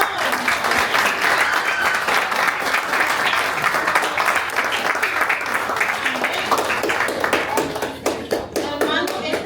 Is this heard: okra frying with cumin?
no